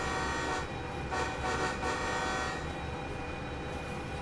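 A locomotive horn in the train simulator game Derail Valley, a sustained, loud, steady tone held across the whole stretch with rumbling engine noise underneath.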